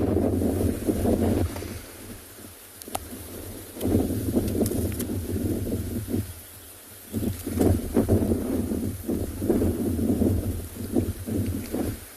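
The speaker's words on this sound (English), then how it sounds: "The wind's really picking up here." Strong wind buffeting a microphone outdoors during a safari, gusting in loud, rumbling waves with brief lulls and no talk.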